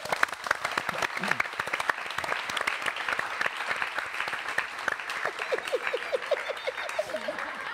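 Loud, dense applause from a studio audience on an Indonesian variety show, steady clapping throughout with some voices mixed in.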